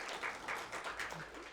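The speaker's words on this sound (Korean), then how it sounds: "정규자 권사님 박수로 격려하겠습니다" A church congregation claps to encourage a deaconess during a Sunday service, steady applause running continuously with some voices mixed in.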